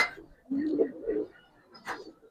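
Giribaz silver and coloured pigeons cooing close by: a few soft, low throaty coos in short bursts, separated by brief gaps, with a quick sharper sound near the end.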